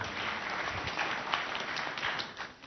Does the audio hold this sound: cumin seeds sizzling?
no